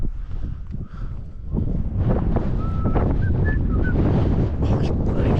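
Wind blowing across a grassy campsite with electric hook-up pitches in North Wales, gusty buffeting on the microphone rising in strength, with faint whistling tones partway through.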